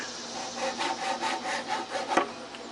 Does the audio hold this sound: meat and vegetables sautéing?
no